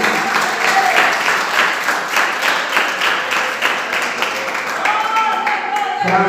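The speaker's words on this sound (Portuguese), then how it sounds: "Assenta e glorifica a Deus com palmas nesta noite" A church congregation claps hands together in a steady rhythmic beat, with voices and music-like tones running underneath, and the clapping tails off at the end.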